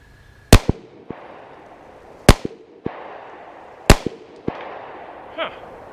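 A Hi-Point C9 pistol fires Federal jacketed hollow point rounds outdoors: three sharp, loud shots spaced about 1.5 seconds apart, each followed by a ringing echo and small clinks, then a fainter fourth pop.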